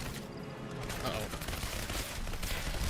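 Dense, continuous gunfire from the video game Turning Point: Fall of Liberty, a rattling fusillade of rapid shots that fills the whole moment at moderate loudness, with a voice faintly audible underneath.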